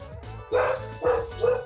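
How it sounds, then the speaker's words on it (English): Three sharp dog barks from the video game Sonic Adventure 2 in quick succession, loud and close, with a faint low hum beneath. "Those are barking dogs."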